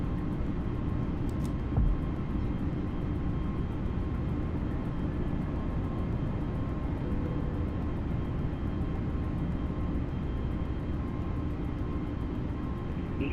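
An A32NX airliner in MSFS 2020 takes off from Amsterdam runway 36 center, with a constant dense low engine roar and rumble that holds steady throughout and has no talk.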